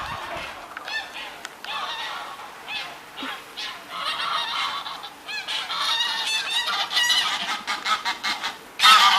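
Geese honk repeatedly at close range, a busy chorus of nasal calls that grows louder and more frequent toward the end.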